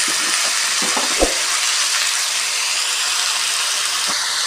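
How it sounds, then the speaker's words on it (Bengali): Chopped vegetables and curry leaves fry in oil in a pan with a loud, continuous sizzle. A few stirring knocks come near the start, and no voices are heard. "সবজিটা ভাজা হচ্ছে"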